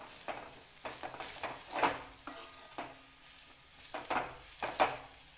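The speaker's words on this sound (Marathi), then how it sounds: "कांदा सगळा मसाला सगळा मिक्स होईपर्यंत आता खरपूस असा भाजून घेते" Onion and masala paste roasting in a pan while being stirred, for a Marathi-style chickpea-greens (harbhara) bhaji; soft scraping stir strokes recur every second or so over a faint, steady sizzle, close and fairly quiet, with no talking.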